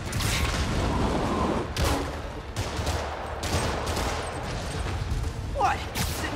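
Rockets fired at Spider-Man in the Spider-Man Remastered video game: a dense barrage of sharp bangs and whooshing launches, loud and continuous, ending with a brief rising streak.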